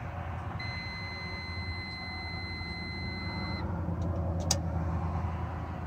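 A Freightliner FLD120 truck with an electrical fault gives a steady electronic beeping tone for a few seconds after the engine start button is pressed, over a low idling engine hum, followed by a brief click.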